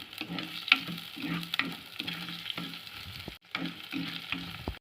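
Chilli pieces frying and sizzling in a pan for chicken curry: a close, continuous sizzle with rhythmic stirring strokes about every half second and a brief pause midway, with faint music underneath.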